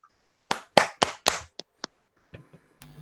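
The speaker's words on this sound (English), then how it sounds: "So a big clap for our students also." A handful of people clap for students at an online college lecture, sparse and close, about eight distinct claps in an uneven cluster, fading to a few faint taps.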